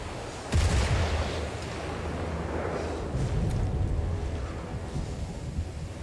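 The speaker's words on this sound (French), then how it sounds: "Attends, mais c'était un bruit de gun." A single sharp gunshot cracks out in the spy video game 007 First Light, near and loud, then gives way to a sustained rumbling, windy wash of ambient noise.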